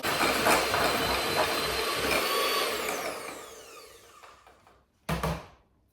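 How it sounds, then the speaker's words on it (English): Softened unsalted butter being whisked for cake icing, a loud continuous electric whirr that runs steadily, fades toward the end, stops, then restarts in a short burst. "I'm actually going to whisk it for a few minutes as well, just to soften it a little bit more"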